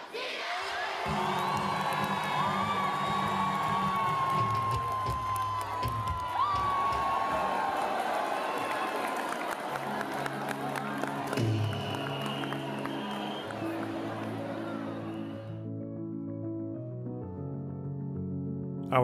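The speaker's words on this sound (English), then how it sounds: "soldiers try to outperform their rivals, to great excitement of the crowds from both sides" Crowds on both sides cheer, whoop and clap loudly and continuously at a theatrical soldiers' border ceremony in India, with shouts and whistles over dense roaring applause, plus steady tonal music beneath the din in the second half.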